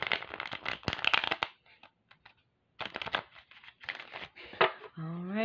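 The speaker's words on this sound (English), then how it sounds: "Let's give the cards one more shuffle." Tarot cards shuffled by hand in short crisp bursts of riffling and snapping, separated by a quiet pause, ending as a voice begins speaking.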